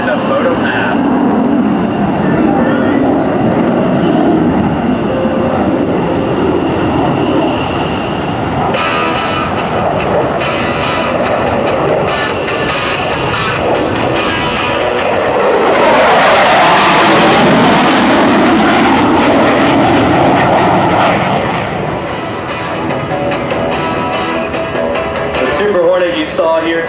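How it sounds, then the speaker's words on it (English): An F/A-18F Super Hornet makes a photo pass during a demo at the 2008 AirPower Over Hampton Roads air show, its jet roar building, surging loudly past mid-way and then fading, while an announcer talks over it. "the Super Hornet in a photo pass"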